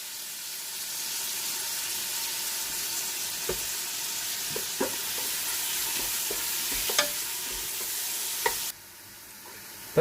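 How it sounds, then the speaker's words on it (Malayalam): Sliced onions with salt sautéing in a pan for fish dum biryani, a steady close sizzle with scattered soft scraping stirs, then the frying drops away near the end; no one speaks. "സവാള നന്നായിട്ട് വഴഞ്ഞു വന്നിട്ടുണ്ട് കേട്ടോ"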